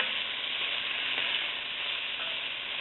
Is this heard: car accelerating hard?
no